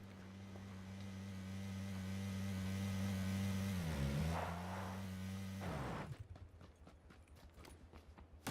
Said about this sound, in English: Vehicle coming from the southwest.